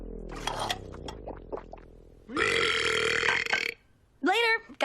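A cartoon girl lets out several burps: a long, loud, drawn-out belch in the middle and a shorter one near the end, after earlier voiced vocal sounds, with no spoken words.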